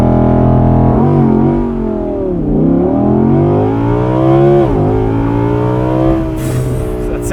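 A 2021 Audi R8 Spyder launches hard with traction control off in track mode, its engine roaring loud and close as the revs climb steadily through several gear changes without a break.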